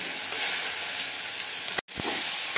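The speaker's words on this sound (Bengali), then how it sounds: "এবারে হাই ফ্লেমে দিয়ে এই শাকটাকে আমি ভেজে নিচ্ছি।" Water spinach frying in a pan on high flame gives a continuous loud sizzle and hiss, with a brief cut to silence near the end before the sizzling resumes.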